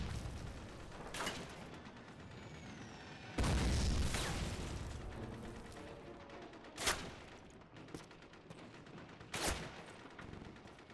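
Call of Duty World War II gunfire on Stalingrad's Red Square, with scattered shots and bursts, one long heavy volley near the middle and several sharp loud cracks later, no talk over it.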